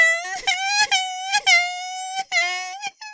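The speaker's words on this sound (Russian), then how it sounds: "Когда маленькая козочка расплакалась" A little cartoon goat cries in drawn-out, wavering wails broken by short sobbing catches, loud and close with no other sound, likely a voice performing the goat's crying.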